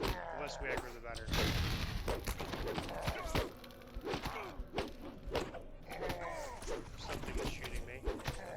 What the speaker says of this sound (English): Something is shooting me. Yeah, a couple casters down there.